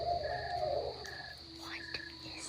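Night creatures, a cricket among them, chirp in short, thin bursts near a backpacking camp on the Manistee River Loop, with faint croaks and calls scattered over a quiet background.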